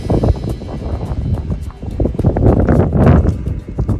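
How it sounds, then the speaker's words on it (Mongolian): Strong wind gusting outdoors in open highland country, a loud, steady broadband rush that swells and surges throughout, buffeting the microphone with no clear voices. "Салхитай шүү дээ."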